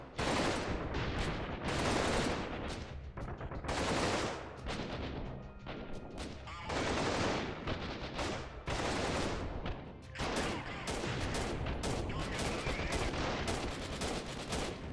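Heavy gunfire from the Freeman Guerrilla Warfare PC game, with loud bursts of shots and volleys in repeated waves, nearly continuous across the span.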